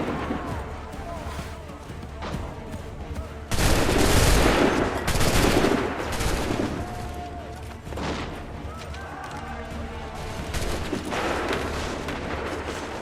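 Musket volleys crash out in an Assassin's Creed 3 battle, a loud dense burst of massed gunfire followed by more scattered shots, with shouted commands heard over the din.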